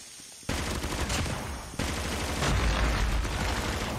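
Call of Duty Mobile team deathmatch on Killhouse, with bursts of rapid automatic gunfire including light machine gun fire. Dense, loud rattling volleys start abruptly and keep going almost without a break.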